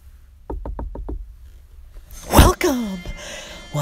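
Four quick knocks rap on a house door, evenly spaced and close, followed by a burst of voices and exclamations.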